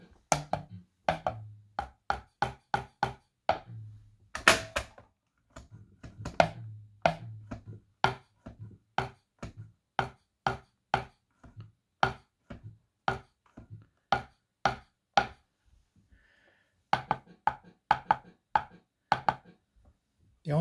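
Hacked Xbox Rock Band drum pads triggering Raspberry Pi drum samples: a long run of sharp, evenly spaced hits with occasional deeper thuds, close and dry, with no talking.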